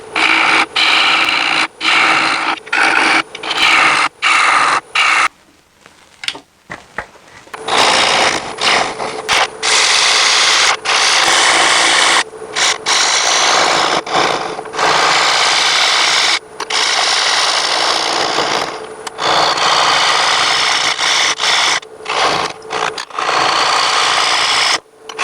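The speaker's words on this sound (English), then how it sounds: "I'm going to turn this down a little bit narrower and then remove the tailstock" A wood lathe turns a cedar bowl blank down narrower, giving a loud, steady whirring cut broken by frequent short pauses and a longer quiet gap early on, with the tool chattering and scraping against the spinning wood.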